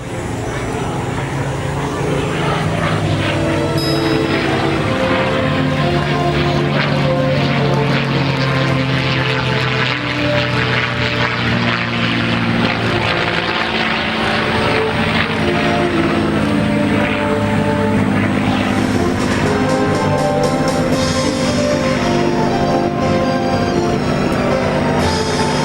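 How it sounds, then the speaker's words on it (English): A P-51 Mustang propeller plane makes a pass at the 2022 Canadian International Airshow, its engine a loud, unbroken roar and drone that swells and fills the entire stretch. "you should get a couple more passes here, giving you a great look at the P-51 Mustang"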